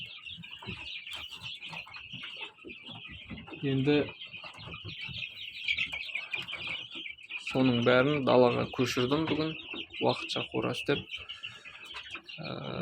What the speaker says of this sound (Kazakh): балапан шығарған 5 балапан инкубатордан